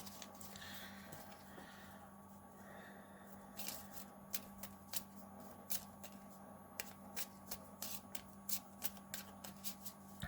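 A deck of sleeved trading cards is shuffled close by, producing soft riffling at first and then a string of sharp, evenly spaced card snaps over a quiet hum.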